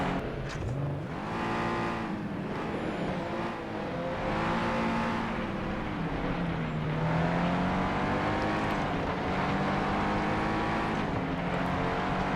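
Race cars roar in FlatOut 2 on PS2, several engines revving and shifting pitch continuously as they accelerate and swoop past, with occasional tire squeal in a dense, steady wash of engine noise.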